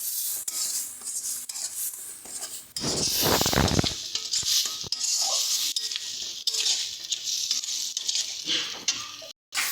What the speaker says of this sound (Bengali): টমেটোর পেস্টটা দিয়ে ভালো করে মশলার সঙ্গে মিশিয়ে নেব।